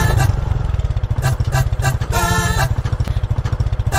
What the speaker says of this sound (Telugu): అన్నా మహేష్ బాబు స్టైల్లో బైక్ స్టార్ట్ చేశాడు